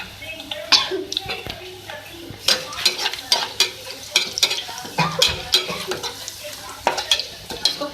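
Whole spices (bay leaf, cinnamon stick, green cardamom, cloves) sizzling in a pan for bara masala beef keema, with steady frying hiss and frequent close spoon clinks and scrapes against the pot.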